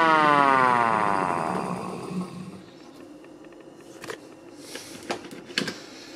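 A mechanical GEC air raid siren, run up short of full speed, wails loudly, its pitch sliding down and fading away, followed by a few sharp clicks and knocks.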